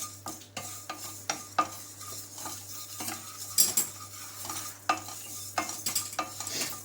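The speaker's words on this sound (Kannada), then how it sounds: "ಮೆಂತ್ಯನೂ ಬೇಗ ಹುರಿದೋಗುತ್ತೆ ನೋಡಿ." Fenugreek seeds roasting dry in a pan for a curry leaves chutney powder, with a spoon scraping and clinking against the metal in irregular strokes over a faint sizzle, close and clear, no talking.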